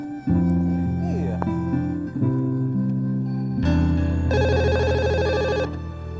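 A telephone rings with a bright, repeating electronic trill over a steady musical background, the ringing loud and close for a couple of seconds.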